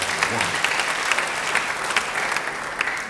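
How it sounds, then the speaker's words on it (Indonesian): A church congregation claps during a sermon, a full, even round of applause from many hands that stays steady and fairly close throughout, with no voices over it. "Beri tepuk tangan yang baik bagi dia."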